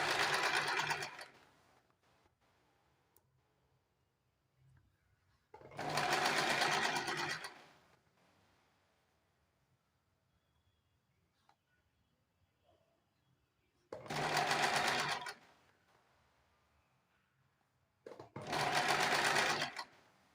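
A sewing machine joins a sleeve to a blouse in four separate runs of fast, buzzing stitching, each lasting a couple of seconds and followed by quiet gaps while the fabric is repositioned.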